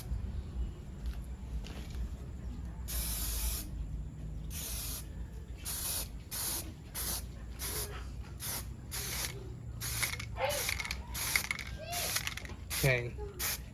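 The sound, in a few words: spray paint can spraying white paint on Transformers figure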